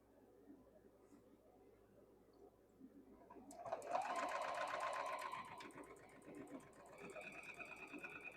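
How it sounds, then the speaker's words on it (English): A sewing machine stitches quilt block pieces in a fast, steady mechanical whir. It starts about midway, runs in a burst, and continues more softly after a short pause, with quiet room sound before it. "we're going to sew these two right down through here"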